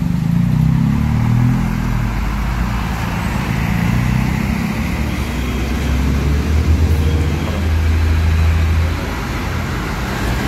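A Rosalia Indah bus pulling into congested Saturday traffic, its low engine rumble steady and fairly loud amid continuous road and traffic noise, with no talking.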